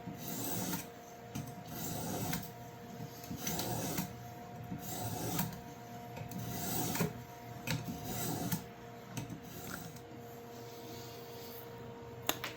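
A camp knife edge is worked on 600-grit abrasive, making a soft, rhythmic scraping with repeated rasping strokes over a faint steady hum, fairly quiet and without talk.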